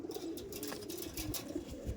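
An Andhra Madrasi pigeon cooing close by, soft throaty coos rolling on in a continuous low murmur, with faint background bustle and no speech.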